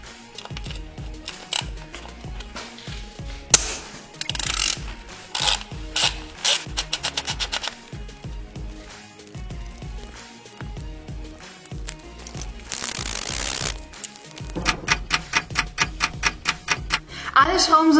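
Ratchet on two long extensions loosening gearbox bolts on a BMW E36/E46 during gearbox and clutch removal, giving rapid clicking bursts with metallic clatter and handling noise close by.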